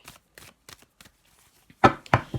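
A few soft, sparse riffles of tarot cards, then two sharper, louder bursts of shuffling near the end, close by with no talking.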